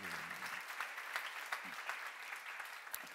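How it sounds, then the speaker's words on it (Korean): A church congregation applauds during a sermon, a steady faint patter of many hands clapping together for a few seconds, heard from a distance with no voices over it. "박수를 하세요."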